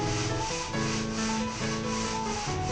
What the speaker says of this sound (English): After that, we polished it up with some sanding